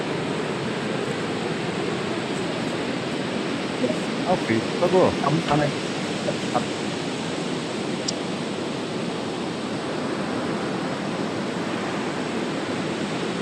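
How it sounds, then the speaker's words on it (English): Steady broadband wash of sea surf rolls on continuously, loud and unbroken, with someone speaking briefly over it partway through. "I've always loved the sound of the sea, and it's incessant as well."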